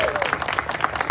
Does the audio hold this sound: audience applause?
yes